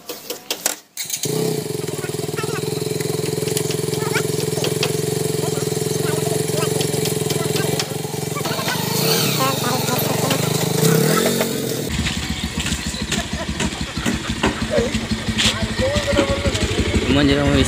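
A motorcycle starts and runs with a steady idle, then revs, heard close over continuous loud background music with people talking.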